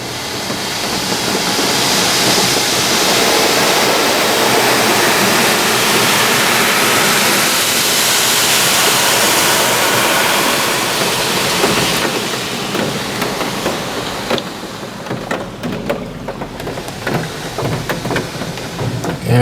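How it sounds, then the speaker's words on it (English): Steady, loud hiss of high-pressure water spraying from an automatic touchless car wash during the spot-free rinse cycle, continuous for most of the clip and easing off toward the end. "And now we have the spot-free rinse."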